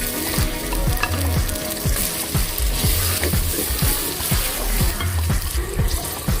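Browned onions sizzle loudly in a pan as chili is stirred in for a matar gosht curry, a steady crackling fry broken by repeated scraping stirs, close and continuous with no talking.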